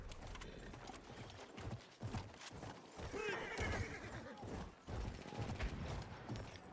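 In the Battlefield 1 video game, a horse whinnies loudly and hooves clip-clop amid gunfire, explosions and battle noise, with a person talking over the chaotic game mix.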